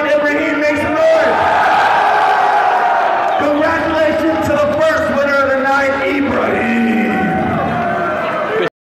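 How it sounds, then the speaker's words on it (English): A large crowd at a streamed boxing event roars and cheers continuously, loud and dense, with voices blending into a sustained wall of shouting that drops off abruptly at the end. "If you want Ibrahim, make some noise"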